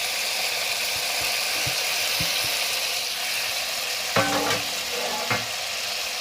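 Duck pieces sauté in a hot pan with a spice mixture, giving a constant loud sizzle. A few light knocks are followed by a short burst of metallic clatter as the pan or utensil is moved, and no one speaks.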